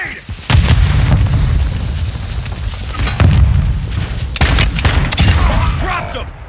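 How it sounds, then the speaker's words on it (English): Loud explosions and gunfire fill a Warzone 2.0 video game battle: heavy rumbling blasts overlap with sharp bursts of shots, dense and close throughout. "Throw a grenade!"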